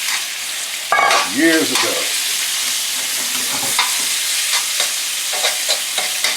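Beef slices hit a very hot pan and sizzle loudly and steadily, with stirring scrapes and clinks on top and a brief spoken phrase near the start.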